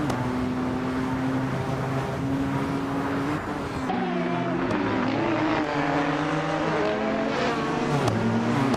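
Race cars roar past continuously in a video game race, engine notes rising and falling as cars overtake one another, loud and close throughout with layered revving tones.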